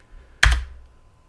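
A single sharp keystroke on a computer keyboard lands close by in a quiet room, with a brief decay afterward.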